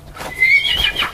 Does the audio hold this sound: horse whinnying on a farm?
yes